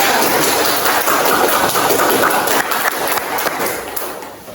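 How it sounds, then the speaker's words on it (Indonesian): A classroom of students applauds a group after its presentation, loud and dense clapping that blurs into a rain-like wash and eases a little near the end. "tepuk tangan untuk kelompok 3"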